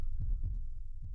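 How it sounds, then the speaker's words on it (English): A heartbeat sound effect, deep low thumps in a steady double-beat pattern over a constant low hum, loud and close, with no voices. "Heartbeat."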